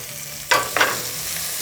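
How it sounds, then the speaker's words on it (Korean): Pork front leg stir-fried in oil with green onion and garlic, giving a steady sizzle broken by two sharp scraping stirs close by, then settling back to a soft frying hiss. "파하고 마늘에서 이제 볶아지면서 이렇게 이제 기름들이 나오기 시작했어요"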